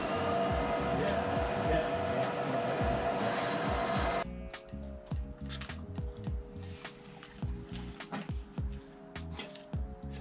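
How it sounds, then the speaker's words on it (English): A strong, continuous hiss of compressed air blown into the inlet valves of a John Cooper Works engine, with a vacuum cleaner held over the spark plug hole; it cuts off abruptly midway, leaving scattered clicks and rattles and people talking. "blowing compressed air down the inlet valves and having the hoover on top of the spark plug hole"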